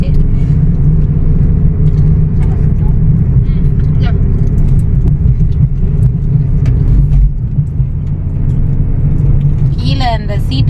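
A car drives steadily on the road with a constant low engine rumble and road noise, loud and continuous, briefly easing toward the end while a faint voice or tone rises over it.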